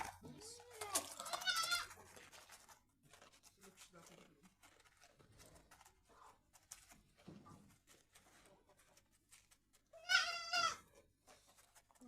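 Sirohi goats bleat loudly at the start and again near the end, with quieter talk and shuffling in the pen between the calls.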